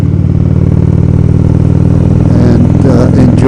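An Indian motorcycle, freshly cleaned, rumbles along on a ride with a steady loud engine drone and mechanical clatter throughout, close and continuous with no talk.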